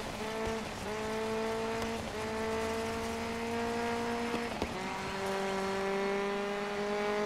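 A car racing over mixed dirt and asphalt in the video game Dirt 5, a steady engine note rising through the gears with several shifts, plus continuous gravelly road noise.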